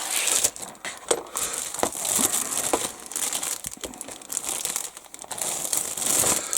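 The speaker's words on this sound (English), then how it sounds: "Sorry for the extra crinkly bags." Plastic bags holding a 1/48 scale Yak 130 model kit crinkle and crackle loudly up close, in continuous bursts of rustling while they are handled, with no speech.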